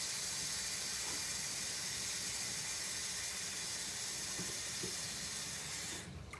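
A tap runs steadily into a basin being filled to wash a synthetic wig, making an even, close hiss that carries on unbroken and cuts off near the end.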